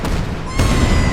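A video game explosion in Astro Bot goes off with a loud, broad burst about halfway through, following a noisy lead-in and leaving a sustained rumbling tail.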